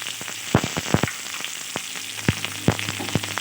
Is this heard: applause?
no